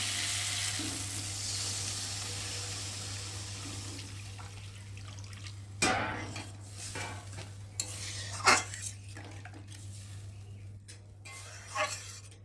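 Water poured into a pan of spice-fried potatoes, with a constant hum under a hissing wash that gives way to stirring clatters and sizzle bursts, close and moderately loud, no talk.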